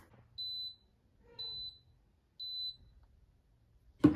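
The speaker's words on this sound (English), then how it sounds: "And then when it's completely done, it will beep a couple times." Cuisinart Coffee Center Barista Bar 4-in-1 coffee maker signaling a finished brew with three evenly spaced high electronic beeps about a second apart, clear and alone in a quiet kitchen, followed by a brief knock at the end.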